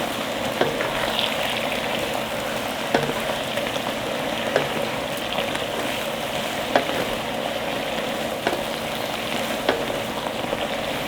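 Eggplant stir-frying with soy sauce in a pan, a loud steady sizzle close up with faint clicks as it is stirred, no talk.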